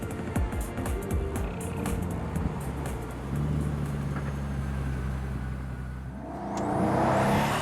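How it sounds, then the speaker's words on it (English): A Pagani Huayra supercar accelerates down a race circuit's main straight, its engine note rising in steady harmonic sweeps, then a louder rush of wind and road noise building toward the end. "As the Huayra rockets off down the main straight, the flaps are kept down."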